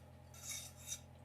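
A fork scrapes and clinks against a pan while lifting pasta with oil and garlic, two soft metallic scrapes over a low steady kitchen hum.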